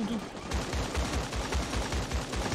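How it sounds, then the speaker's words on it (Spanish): Rapid bursts of gunfire in the video game Creative Destruction, a steady rattling stream of shots with low thumps, continuous and fairly loud throughout. "han iniciado un tiroteo"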